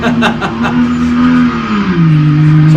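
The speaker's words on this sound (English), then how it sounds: "The truck sounds so good." Off-road Comp/Pro race truck engine at a desert race, a loud steady drone that dips in pitch near the end, with some background noise.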